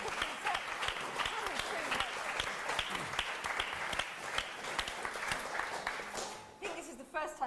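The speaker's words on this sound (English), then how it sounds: "we've had spontaneous applause for speakers after they've spoken" Sustained audience applause, dense and steady clapping from many people, continuing for several seconds before tapering off near the end.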